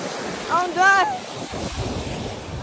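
Surf washing onto a beach, a steady broadband rush of waves with wind buffeting the microphone, and a brief high whistling voice-like tone near the start.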